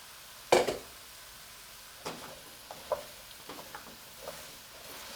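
Beets, tomatoes, carrots and potatoes stirred in a pot of oil-free vegan borscht: one sharp clatter of utensil against pot, then scattered soft scrapes and taps with a faint bubbling background.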